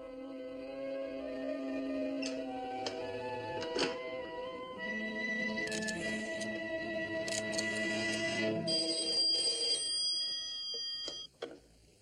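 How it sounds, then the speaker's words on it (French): An office telephone rings on and off over background music and room sound in a 1970s Amicalement Votre episode, loud and close, with the ringing continuing for most of the stretch. "Tu attendais un coup de téléphone de Laurence d'Arabie, sans doute?"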